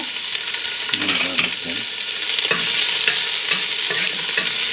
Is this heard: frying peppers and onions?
yes